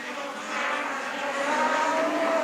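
Production sedan race cars, including a VK Commodore, drone around a track with a steady engine roar whose pitch climbs slightly as a car passes at moderate distance.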